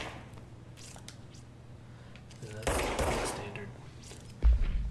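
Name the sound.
standard pistol firing in the video game Control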